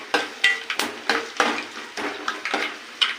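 Peanuts tossed and stirred in a frying pan with onions, a steady sizzle broken by repeated scraping and clattering strokes at an irregular pace, close and fairly loud.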